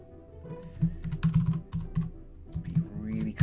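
Rapid bursts of computer keyboard typing while entering a character name into a Roll20 macro, uneven clusters of keystrokes with short pauses, close and fairly loud, with no talking.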